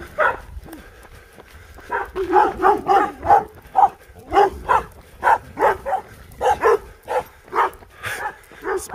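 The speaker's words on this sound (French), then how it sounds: "ils sont bien excités les chiens là." Several dogs bark excitedly in rapid, irregular bursts at close range, with occasional whimpering yips between barks, on a hike near Cabrières-d'Aigues in the Luberon.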